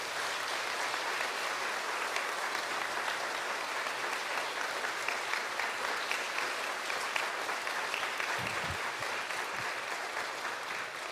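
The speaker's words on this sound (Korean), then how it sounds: "마음을 담아서 큰 박수 부탁드립니다." A congregation applauds during a Sunday church worship service: a long, even wash of clapping that holds steady throughout, heard at a moderate distance with no speech over it.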